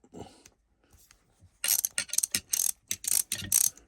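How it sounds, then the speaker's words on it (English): Small stubby ratchet, an inexpensive hand tool, giving a few soft clicks, a pause, then a rapid series of sharp, close ratcheting bursts in quick rhythm. "A wee ratchet."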